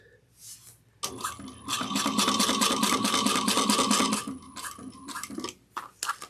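Sewing machine stitching an eighth of an inch down the sides of a clear vinyl bag: a steady, close motor run of about three seconds with a rapid stitching pulse, followed by shorter start-and-stop bursts.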